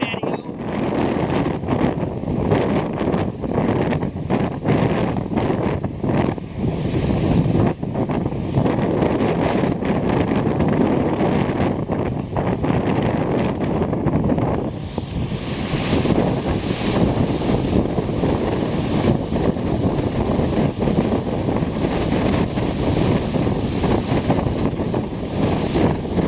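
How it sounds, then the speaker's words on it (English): Strong wind blows loudly and steadily across the microphone on a Lake Superior lakeshore beach at Twelve Mile Beach, Pictured Rocks, with a constant roaring rumble and faint surf beneath, broken by occasional louder gusts. "The wind is so loud."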